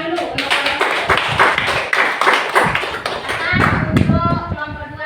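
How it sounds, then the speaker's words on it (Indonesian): A classroom audience claps together for a presenting group during a teaching assessment session, a dense, steady patter of hand claps close by, fairly loud and sustained throughout, with a voice talking over the clapping. "tepuk tangan dulu"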